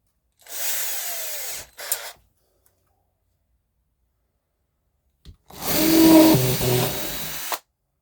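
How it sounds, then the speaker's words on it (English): An electric drill whirs in a short burst, stops briefly with a quick blip, then after a pause drills again, louder and grinding as it bites into wood on a model railway layout to run cable through. "drill that down to yonder"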